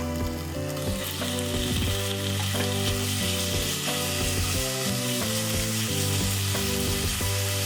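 Meat fries in sesame oil for chikuzen-ni, a constant crackling sizzle throughout with light stirring, over continuous background music.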